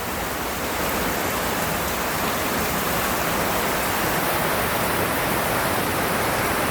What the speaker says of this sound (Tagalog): yun pa rin ang lakas ng ulan, di pa rin nagbabago